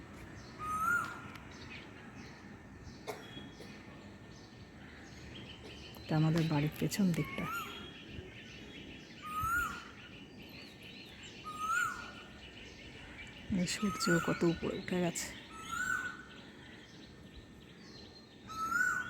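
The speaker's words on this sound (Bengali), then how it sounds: "মিষ্টি আওয়াজ, বসন্তকালে কোকিলের ডাক।" An Asian koel calls in spring from trees behind a house, giving several repeated rising calls at moderate distance, with a person talking over and between them and other birds chirping faintly.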